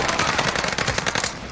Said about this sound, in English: I just pre-fired the shit out of that